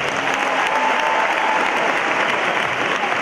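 A big concert crowd applauds loudly and steadily for a singer, a thick, continuous roar of clapping with a few faint cheers underneath.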